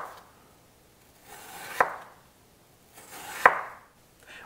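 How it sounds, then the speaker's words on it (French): A knife slices peeled apples into very thin pieces on a board. Two crisp, close cuts land about two seconds apart, each with a soft scrape before it, in a quiet kitchen. "On vient couper vraiment des tranches très très fines."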